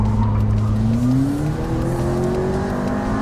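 A McLaren MP4-12C sports car braking hard and turning on a track, its engine note droning low and steady with a slowly rising pitch, loud and close throughout with no voices.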